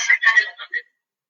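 A telephone call signal sounds as a short series of bright electronic tone bursts, close and clear, ending abruptly and followed by silence.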